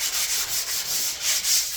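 Steady raspy scraping of sandpaper on wood, back-and-forth strokes in a regular rhythm, close and fairly loud with no voices.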